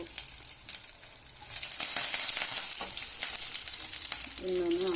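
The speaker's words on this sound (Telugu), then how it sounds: "కొంచెం కరివేపాకు" Curry leaves are frying in hot oil for an onion tamarind curry, with a steady close sizzle that swells and crackles, plus a short tone near the end.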